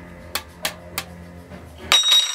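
A can of Trailer Park Boys Freedom 35 lager is tapped three times, three evenly spaced close metallic taps, followed by a brighter clink and rustle.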